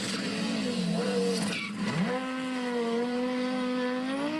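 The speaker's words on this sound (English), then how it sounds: "It's very smooth drifting in this, man" Rally car drifting with tires squealing, a steady high squeal over engine drone that dips briefly mid-way then rises into a long rising whine, with no talking.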